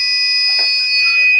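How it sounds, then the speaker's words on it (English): A steady high-pitched electronic buzzer from an IoT women's safety alert system sounds continuously after its panic button is pressed, loud and close with no voices. "Buzzer is running."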